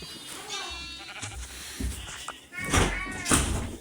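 Repeated bleating from sheep in Minecraft, a few wavering calls rising over background chatter and clicks, fairly close.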